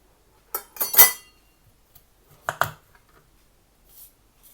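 A knife slicing cucumber on a cutting board, a few quick crisp cuts and taps in two short bursts, close and clear with quiet gaps between.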